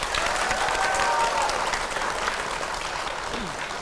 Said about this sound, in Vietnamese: Vỗ tay đi quý vị.